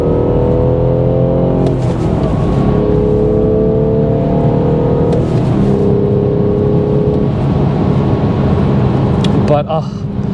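A 2019 BMW 440i xDrive with the B58 straight-six and six-speed manual drones steadily from inside the cabin, pitch rising and falling through gear changes, with a brief metallic rattle near the end.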